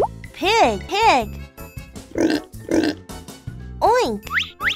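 A voice imitates a pig with a few short nasal oinks, close and fairly loud, between bursts of high-pitched speech-like sounds.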